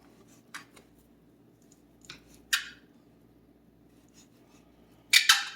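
Knife trimming the fat knuckle out of a beef strip loin, a few sparse, sharp slicing and scraping sounds separated by quiet pauses, close up, with a final louder burst of cutting and no talking.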